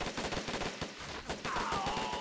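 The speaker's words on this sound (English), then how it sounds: "A lot of gunfire though" Gunfire crackles in a Men of War Online battle between US and Japanese infantry, quick rattling bursts of rifle and machine-gun shots at moderate distance, with a faint whistling tone entering partway through.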